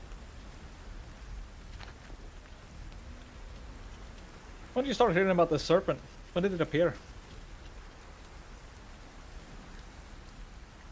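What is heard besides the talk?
rain falling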